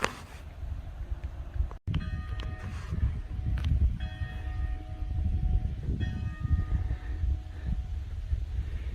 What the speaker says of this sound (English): You count those bells, Jody?